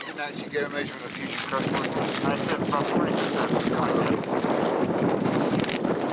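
Strong wind buffeting the microphone in a continuous roar on a cold day in Antarctica, with faint talk briefly audible at the start.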